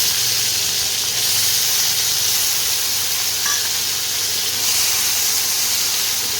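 Chopped tomato hits hot oil with cumin in a pan, giving a loud, steady sizzle and hiss that stays even throughout, with no talking.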